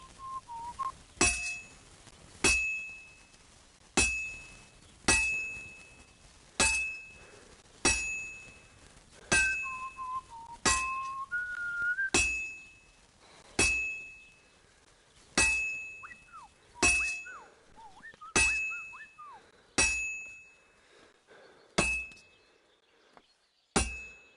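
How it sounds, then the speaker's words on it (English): Metal hammered evenly in Kingcome, a steady series of sharp ringing strikes about every one and a half seconds, each clang decaying before the next, with faint tonal whistles between blows, fairly loud and close with no talk. "I have to hammer it more evenly."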